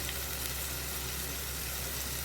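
Spice masala with coriander-cumin powder, red chili and turmeric sizzles steadily in oil over slow to medium heat for Kathiyavadi Anguri sabji, a close, continuous hiss and crackle with no talk.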